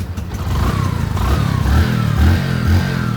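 A second-hand Bajaj Platina 100 motorcycle engine runs steadily nearby, loud and even with a slight rise in revs, no speech over it.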